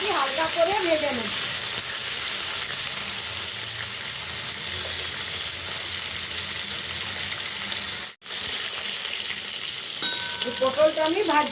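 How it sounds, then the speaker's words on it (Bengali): Pointed gourd sizzles steadily in hot mustard oil in a wok, close and even, with a momentary dropout partway through and someone talking briefly at the start and finish. "পটলটা আমি ভাজছি।"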